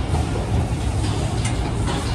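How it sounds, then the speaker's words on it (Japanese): Hiroshima Electric Railway 5100-series Green Mover Max tram arriving at the Hiroshima Station terminal, a steady low rumble of the approaching streetcar with faint rolling and clacking, fairly close and constant throughout, with no voices. "5100型グリーンムーバーマックスが到着しました。"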